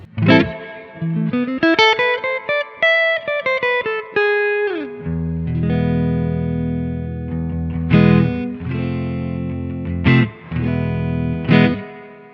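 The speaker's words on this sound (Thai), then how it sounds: "นี่คือเสียงรีเวิร์บแบบสปริง" Electric guitar through the spring reverb of a Strymon El Capistan V2 pedal, a melodic run then sustained chords with strummed accents, each note trailing a lingering splashy reverb tail, loud and alone.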